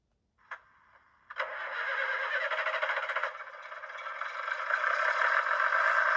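A model train locomotive's diesel engine sound starts up with a click, then a steady synthetic rumbling drone that grows slightly louder and holds, close and alone with no talking.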